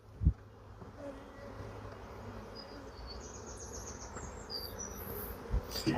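Honeybees buzz in a dense, steady drone around an open hive box outdoors, with a few sharp knocks and faint bird chirps over the humming swarm.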